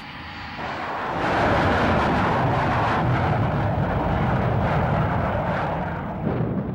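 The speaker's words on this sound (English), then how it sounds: "F-117A stealth fighter bombers took off for Iraq" F-117A stealth fighter bombers take off at the start of the 1991 Gulf War, a loud, broad jet roar that swells in the first second and then holds steady and powerful throughout.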